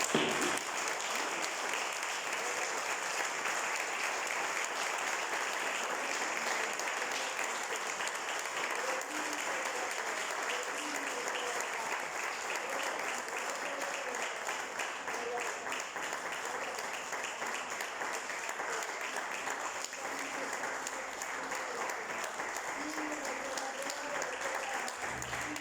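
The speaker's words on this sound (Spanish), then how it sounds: "Démosle un fuerte aplauso al Espíritu Santo." A church congregation claps in steady applause during a worship service, with the dense clapping slightly distant and continuing for the whole span, under faint background voices.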